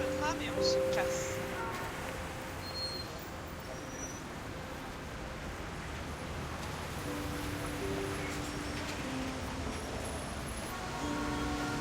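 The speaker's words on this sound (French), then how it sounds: "Maintenant, on prend le tram et on se casse." A tram ride through Jorvik City toward Dundull in Star Stable Online, carried by a steady rolling rumble and hiss that runs unbroken, with faint tonal game chimes scattered over it. No one speaks.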